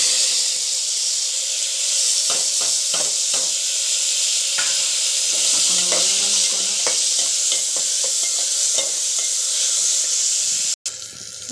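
Tomato and onion sizzling in hot oil with mustard seeds, cumin and curry leaves, a steady bright hiss with scattered spoon scrapes and stirring clicks, close and continuous with no talk.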